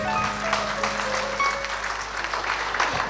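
Audience applause fills a concert evening of ashiq folk music, a steady dense wash of clapping from a crowd lasting a few seconds, with a faint sustained tone and murmur beneath it.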